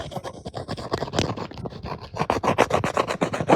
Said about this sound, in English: I have something on my phone, and it's like making my phone blurry looking, so I'm scraping it off.